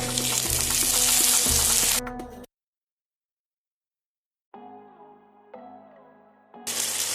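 Chopped tomatoes frying in a pan for quail bhuna give a steady, bright sizzle that stops abruptly, followed by a quieter stretch of faint clinks, then the sizzle resumes loudly.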